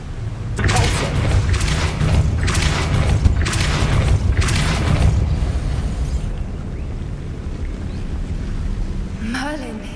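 Depulso spell cast in Hogwarts Legacy: a run of loud, booming, forceful bursts in quick succession, followed by rumbling game ambience and a rising magical whoosh at the end.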